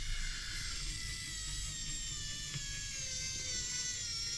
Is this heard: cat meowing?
no